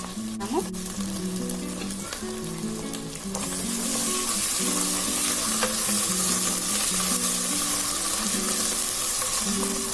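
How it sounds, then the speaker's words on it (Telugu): Ginger garlic paste hits a pan of tomatoes for a mushroom egg biryani and gives off a continuous sizzle. The sizzle swells louder partway through, and a soft melodic background runs beneath it. "అదేవిధంగా జింజర్ గార్లిక్ పేస్ట్ వేసుకోవాలి."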